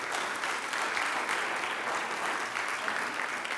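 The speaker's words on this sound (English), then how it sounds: "may we have a round of applause for our 3 speakers" A conference audience at the closing session in Oviedo applauds its three speakers: sustained, dense clapping from a large crowd, even and moderately loud, with no voices over it.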